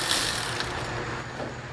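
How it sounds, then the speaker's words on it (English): Electric ratchet whirring steadily near a 455 big block engine in a 1972 Cutlass, a continuous close mechanical buzz with no talk. "Electric ratchet."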